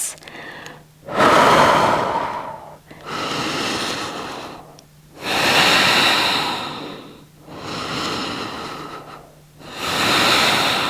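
Slow, deep breaths held in a yoga plank, each long airy inhale and exhale rising and falling in a steady cycle, close and loud with no talking.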